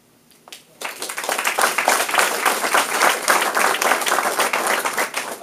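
An audience at a 2014 Massena village mayoral debate breaks into loud applause after a quiet moment, with dense, close clapping that continues steadily to the end.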